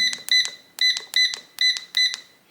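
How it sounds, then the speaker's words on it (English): A Honeywell Tru-Bolt electronic lock keypad gives about six quick, bright beep pairs in a steady rhythm, close and clear with no other sound. "you're going to hear a long beep and see a green flash here"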